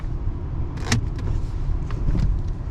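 A 2016 Ford Expedition XLT 4x4 shifting into four-wheel low from neutral, heard as a short mechanical clunk and brief whir inside the cabin over a steady low engine idle, with a second fainter clunk shortly after.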